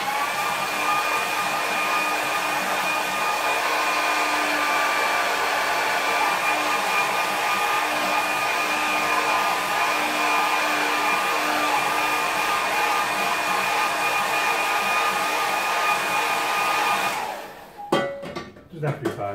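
Hair dryer blowing over a watercolour painting fixed to a plywood board, a loud steady close whir with a constant whine that runs for most of the time, then cuts off into a few handling knocks.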